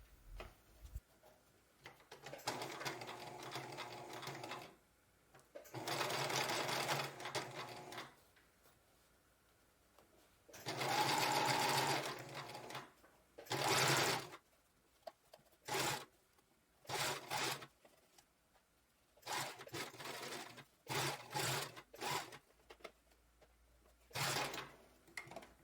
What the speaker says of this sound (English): Sew a straight stitch where we made our zigzag stitch.